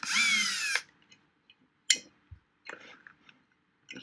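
Power drill backing Allen head screws out of a 10-inch Savard Speakers HiQ subwoofer during a rebuild, one loud short whir near the start followed by faint clicks and small handling noises.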